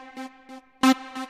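The FL Studio Citrus synth's default sound plays a rich, buzzy sustained tone with pulsing brighter accents, one louder hit near the middle, loud and big in character.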